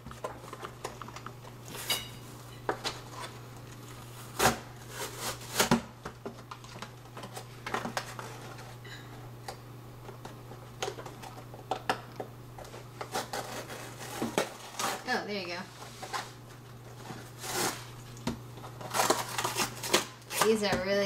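Zootopia toy figure packaging is ripped open, crackling, tearing and rustling in irregular bursts over about twenty seconds, close to the mic, with voices chatting in the background.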